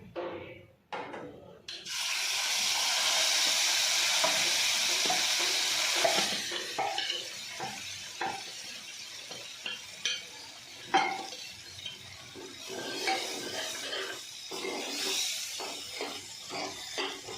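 A loud hiss bursts up as dal is tipped into hot tempering oil, then a spoon scrapes and stirs in a pan while the sizzling continues beneath.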